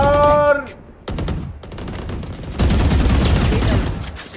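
Bursts of rapid gunfire in Valorant or Apex Legends crackle in several volleys, with brief pauses between, loud and close, joined near the start by a short electronic tone.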